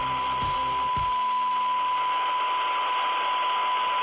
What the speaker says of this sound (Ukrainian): Як бачимо з відкритим шумодавом, воно у нас вже в принципі відкрито від 132 шум чути